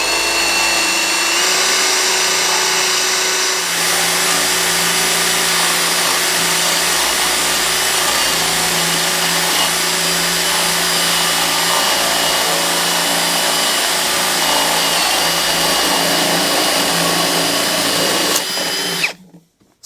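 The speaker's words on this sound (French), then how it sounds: "ce qui se passe si je perce de l'OSB avec une mèche à bois de 20 mm" A power drill spins up and bores into OSB board with a large 20 mm wood bit, a loud, continuous, close whine holding steady for nearly twenty seconds before stopping abruptly.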